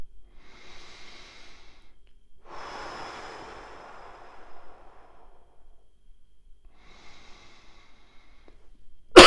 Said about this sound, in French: 3 grandes respirations en position debout